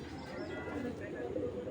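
A large pigeon gives a brief, soft coo close by, with people talking over it.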